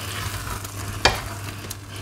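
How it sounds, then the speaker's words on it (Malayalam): Egg biryani being stirred in a heavy pot, with a low steady sizzle and one sharp scrape or clink of the spoon midway. No one talks. "ഒന്ന് ഇളക്കിയിടാം"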